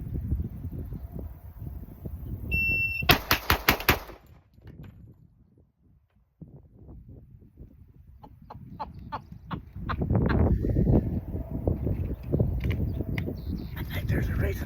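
Gunfire from a Turkish-made gun on a shooting range: a quick string of about a dozen sharp shots early on, with further scattered shots and a run of reports later, mixed with people talking.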